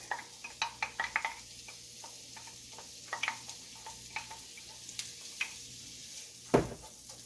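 Onions crackle on a red-hot burner for hibachi, a fine sizzle punctuated by a steady run of sharp pops and clicks, with a louder clatter near the end; no one speaks.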